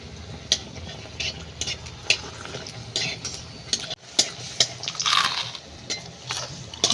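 Battered eggplant fritters (begunis) frying in hot oil, a continuous crackling sizzle punctuated by sharp metallic clinks of a spatula turning them, close by with no talking.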